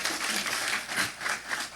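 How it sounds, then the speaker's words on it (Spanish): Church congregation applauding during a Spanish-language sermon, a brief, fairly quiet wash of many hands clapping throughout with no clear pauses. "Pero bien fuerte ese aplauso."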